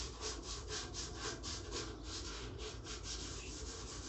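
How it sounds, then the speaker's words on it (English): Sandpaper rubbed in circles over a guitar neck to fix a sticky finish, a close, continuous rasping swish that rises and falls in a regular rhythm with each pass. "So I'm going to sand this on a circular motion as well,"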